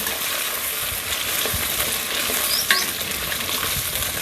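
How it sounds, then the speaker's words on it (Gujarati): Gunda (glue berries) dropped into plain hot oil, frying with a steady, close broadband sizzle and faint stirring throughout, one brief sharper crackle near the end. "તેલ આવી ગયું ને તેલમાં કોઈ વસ્તુ નથી નાખી ખાલી તેલ જ છે તો હવે હું ગુંદા નાખી દઉં"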